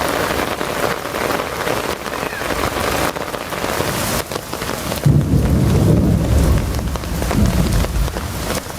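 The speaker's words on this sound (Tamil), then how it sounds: "திடீரென வானத்தில் கருமேகம் சூழ்ந்து இடியுடன் கூடிய கனமழை" Heavy summer rain pours down in Ponnamaravathi, Pudukkottai district, Tamil Nadu, a loud dense roar of drops on surfaces with deep rumbling thunder rolling in partway through.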